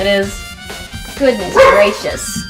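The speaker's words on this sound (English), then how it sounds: "He's already barking his head off." A beagle-bulldog mix barks in quick bursts at a middle distance, partly buried under an exclaiming voice and the sound of game music.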